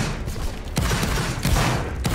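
Rapid gunfire aimed at an enemy cab in a first-person shooter video game, with a dense stream of sharp shots broken by a few louder, sudden bursts and heavy booms.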